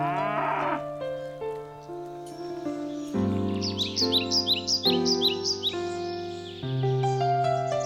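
Cattle on a farm in the Vredefort Dome countryside moo loudly and repeatedly, long drawn-out lowing calls from several animals overlapping, with faint bird chirps in the background.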